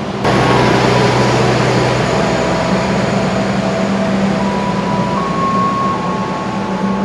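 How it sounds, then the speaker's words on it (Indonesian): Constant loud drone of a generator and dining car on a Pasundan passenger train, a steady mechanical hum with faint tonal whines layered over the rolling rumble of the carriages throughout. "Di sini agak bising ya karena ada suara pembangkit sekaligus kereta makan itu di tengah-tengah"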